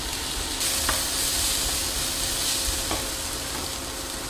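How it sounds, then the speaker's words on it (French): Vegetables frying in a pan over medium heat, a steady broadband sizzle with a few soft stirring clicks, close and continuous with no voices. "je vais faire cuire les légumes sur un feu plutôt moyen, environ 4 minutes"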